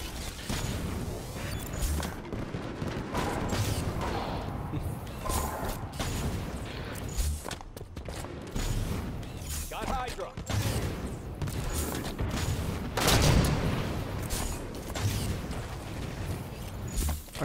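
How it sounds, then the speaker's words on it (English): Grenade-spam explosions mixed with gunfire in a first-person shooter, a dense run of crashes, bangs and mechanical clatter under excited talking. "Oh gosh, that nade spam."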